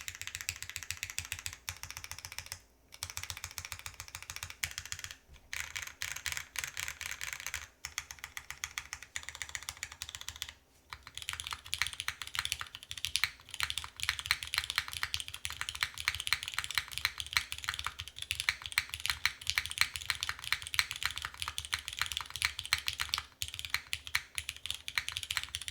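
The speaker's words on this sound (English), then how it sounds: "It's a great pop of a spacebar." Fast continuous typing on a Frog Mini mechanical keyboard, dense close clacks with heavier spacebar thocks, short pauses breaking the flow, then a busier brighter stretch of keystrokes.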